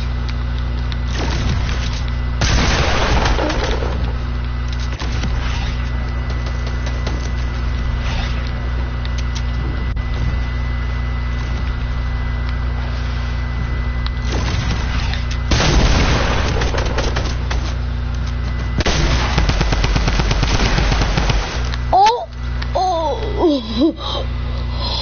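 Fortnite gunfire comes in several loud bursts of rapid shots with booming impacts, separated by quieter game ambience, ending with whistling electronic effects.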